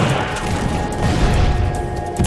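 Revolver shots fire in the horror video game The Suffering, dense booming bursts amid a busy, loud game soundscape for a couple of seconds, with no talking.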